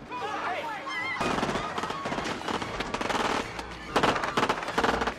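Bursts of rapid automatic fire from a compact micro Uzi-like submachine gun in a 1990 science-fiction action film, loud and dense, layered over music and effects with some voices.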